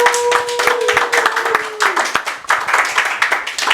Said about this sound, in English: How about a nice round of applause, Archie and Justin.